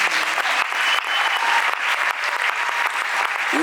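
Sustained, dense applause from an audience honoring a panel of leaders, loud and steady throughout with no voices over it.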